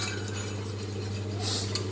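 A whisk stirs two spoons of flour in a bowl while kadhi is prepared in a home kitchen, making soft, continuous scraping and light clinking against a steady background hum.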